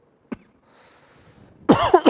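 A storyteller imitates a king coughing: one short cough, a faint breathy pause, then a quick burst of loud, harsh coughs and throat-clearing.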